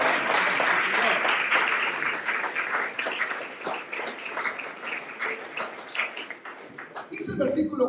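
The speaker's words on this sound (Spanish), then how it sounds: "Den un aplauso al Señor." Congregation clapping in a Spanish-language church service, a busy crackling patter of many hands that gradually thins and ends near the close.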